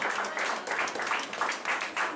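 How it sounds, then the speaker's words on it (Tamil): Audience applause for award recipients at a televised women's achievement awards ceremony, a steady dense clapping that fills the moment without pause, fairly faint and distant. "அத்தனை விருதாளர்களுக்கு மொத்தமாக சேர்த்து உங்கள் கைத்தட்டுகளை குறிக்குமாறு அன்போடு"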